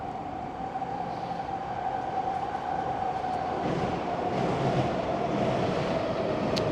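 Vancouver SkyTrain passing on elevated tracks downtown, a steady rumbling rush with a sustained tonal whine that swells slightly as the train moves by, heard from nearby at street level.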